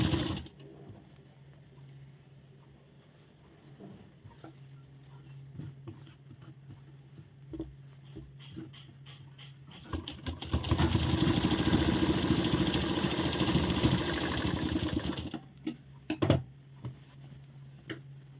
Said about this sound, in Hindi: मोड़ने के बाद यहाँ पर हम सिलाई चलाएंगे।